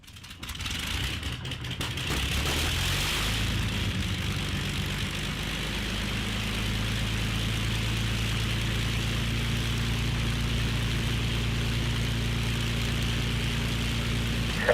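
A piston engine on an Avro Lancaster bomber coughs through its start, then catches and settles into a loud, steady propeller drone as it warms up at idle.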